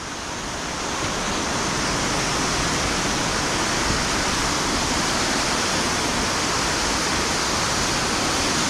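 Gayle waterfall runs swollen with extra rainwater from the fields, a loud, steady broadband roar of pouring water, close and unbroken.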